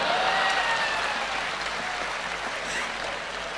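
Audience applause at a poetry performance, a full sustained burst of clapping from a crowd, loud at first and easing slightly toward the end.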